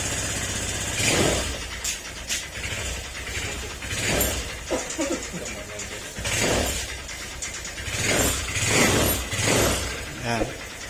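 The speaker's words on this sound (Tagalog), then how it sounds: "maingay yung kanyang makina. Paandrin natin para may parinig ko sa inyo." Honda Click 150 scooter engine with a crankshaft and connecting-rod fault after running low on oil, idling noisily with a rough mechanical clatter and repeated revving surges, close to the microphone.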